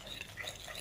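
A spoon stirs chopped shallots, lemon zest and lemon juice in a bowl, giving faint, close scraping and clinking over about a second.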